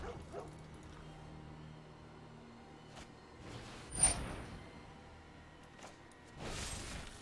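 A puppy's yips and whimpering barks in the card game Magic Arena, a few short faint bursts spaced out over a quiet background.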